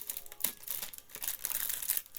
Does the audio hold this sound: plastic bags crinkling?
yes